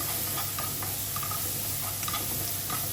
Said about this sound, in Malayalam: നമ്മൾ എടുത്തു വെച്ചിരിക്കുന്ന ഇഞ്ചി പച്ചമുളക് പേസ്റ്റും ഇട്ട് കൊടുക്കാം. ഇനി നമുക്കിത് നന്നായിട്ട് വഴറ്റി കൊടുക്കാം.